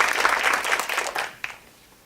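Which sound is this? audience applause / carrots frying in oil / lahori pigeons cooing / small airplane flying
audience applause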